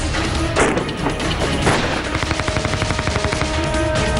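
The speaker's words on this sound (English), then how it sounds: "the stillness of dawn in Pampore near Srinagar was broken by the sounds of bullets" Gunfire from a terrorist attack at a building in Pampore near Srinagar at dawn: loud, rapid bursts of automatic shots rattle continuously with no voices.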